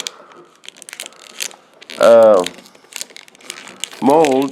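Plastic vacuum bagging film being pressed and crinkled down into a mold, giving close crackling rustles throughout, with a voice speaking in short bursts over it.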